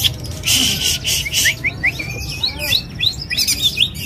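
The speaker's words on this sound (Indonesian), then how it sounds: "burung gacor" A caged songbird at a bird kiosk chirps loudly in quick, bright repeated phrases and trills, close and continuous over a low market murmur.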